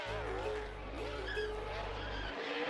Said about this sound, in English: As Casey Mears spun the car around in turn 1.